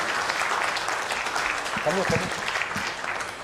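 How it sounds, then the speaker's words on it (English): A charity awards night audience claps at a steady, moderate level throughout, with a brief murmur of voices underneath toward the middle. "A little louder on that applause, please."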